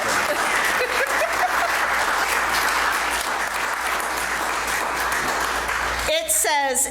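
A congregation claps steadily at a church service, a dense even patter holding for several seconds before a voice speaks up near the end.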